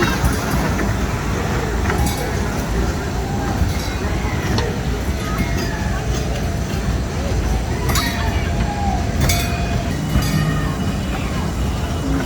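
An amusement park train ride at a boardwalk pulling away with its caboose, a continuous rumble and clatter of the wheels on the track under park crowd noise and people talking.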